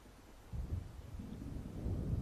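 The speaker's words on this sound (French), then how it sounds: "On dirait qu'un orage approche." Low distant thunder rolls and builds as a storm approaches in the video game Alan Wake, a faint rumbling swell that grows louder toward the end, with no voices.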